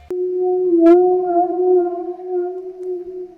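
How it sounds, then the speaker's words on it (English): A single sustained, wavering guitar tone isolated from a sample glides slightly and holds steady for a few seconds, with a brief bright pluck near the start, alone with no voices. "So that's not actually a vocal, that's just part of the guitar"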